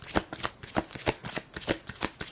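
Tarot cards being shuffled by hand, a quick run of crisp riffling flicks and soft slaps in an irregular rhythm, close and fairly quiet, with no voices.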